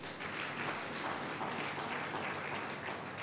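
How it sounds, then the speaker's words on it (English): A church congregation claps hands together during a Sunday morning service, a dense steady wash of applause filling the room evenly for a few seconds. "Clap your hands for Jesus."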